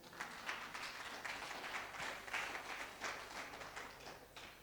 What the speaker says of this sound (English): Give the Lord the clap offering for us